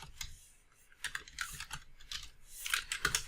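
Code is typed on a computer keyboard in quick, irregular bursts of close, crisp key clicks.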